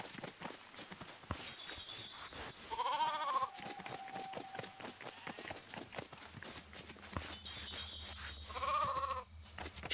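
Two sheep bleats in LEGO Fortnite, each a wavering, nasal call, heard a few seconds apart over busy game noise with rapid footsteps and clatter, moderately close.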